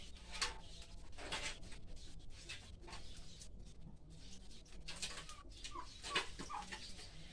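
Chickens cluck and chatter in the background, several birds calling in short bursts over a steady low rumble, no voices.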